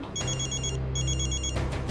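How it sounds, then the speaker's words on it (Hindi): A mobile phone rings in a domestic crime drama scene, sounding two bursts of a bright, pulsing electronic ringtone over a low steady hum, with no voices. "आज तो आपका फ़ोन बहुत बज रहा है"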